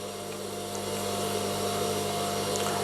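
A high-speed sewing machine runs at a constant pace during thread setup, producing an even, unbroken motor whir with a faint steady hum underneath, close and moderately loud throughout.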